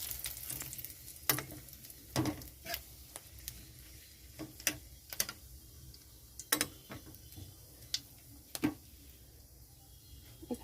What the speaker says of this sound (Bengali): কড়াইতে তেল গরম হয়ে গেছে, সর্ষের তেল। এখানে দিয়ে দিচ্ছি কালো জিরা, শুকনো লঙ্কা,